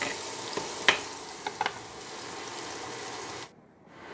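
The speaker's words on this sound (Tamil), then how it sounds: "எண்ணெயில் வதக்குறனால ஸ்டர் ஃப்ரையில் 150 டெம்பரேச்சரில் குக் பண்ணுறேன்." Stir-frying in oil inside a new clay pot on an infrared cooker at low heat, a steady soft sizzle with a few light clinks of stirring, then cutting quieter near the end.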